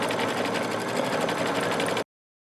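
An embroidery machine sews out an in-the-hoop book cover design, its needle hammering in a fast, steady, loud rhythm for about two seconds before cutting off abruptly into silence.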